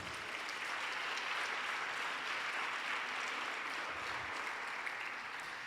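A church congregation applauds the Lord in a steady, faint, even wash of clapping that carries on for several seconds without speech.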